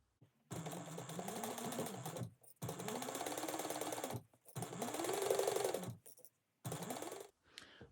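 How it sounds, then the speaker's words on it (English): A sewing machine bastes fabric in four quick bursts of close mechanical stitching, each a couple of seconds long with short silent pauses between them. "go ahead and just baste this on in place at 1/8 of an inch."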